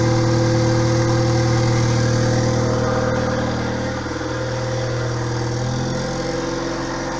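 Turbocharged Honda Civic EK hatchback engine running at a steady, loud idle with a continuous mid-frequency hum, a slight dip and shift in tone near the end.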